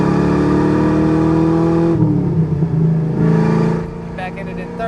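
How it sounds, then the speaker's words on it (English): A 1991 Ford Mustang GT 5.0 V8 convertible engine drones loudly, drops briefly as it downshifts, then revs back up in third gear and fades slightly toward the end. "We'll downshift a second."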